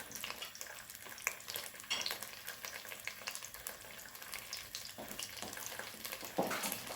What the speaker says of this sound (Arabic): نخلوها تتقلى شويه هكا